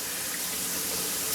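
Water runs steadily through a kitchen sink during a garbage disposal water test, a continuous close hiss and splash with no talking.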